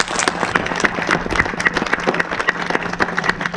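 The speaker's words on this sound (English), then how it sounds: "Let's give them one more big round of applause." A round of applause from guests at a gallery ribbon-cutting ceremony, with many hands clapping at once in a brisk, close, continuous patter.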